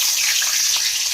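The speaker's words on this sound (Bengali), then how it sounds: "এই আলুগুলোকে আমি তেলের মধ্যে দিয়ে দেব।" Potato pieces frying in hot oil, giving a steady close bubbling sizzle with no pauses.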